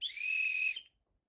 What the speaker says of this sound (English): and that's not a confident whistle.